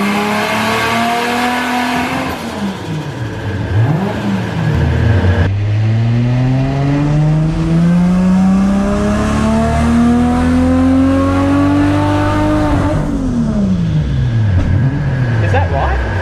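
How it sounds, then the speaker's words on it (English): A Toyota Supra engine on a dyno climbs in one long, loud pull, revs rising steadily, then drops off sharply near the end with the engine note falling away. "here it is on the dyno"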